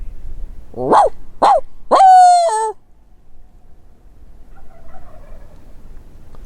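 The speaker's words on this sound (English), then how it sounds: "There's several turkeys." A loud, close wild Rio Grande turkey gobble rings out in a few quick rising bursts on Oklahoma public land in spring, followed by quieter outdoor ambience with a faint distant call.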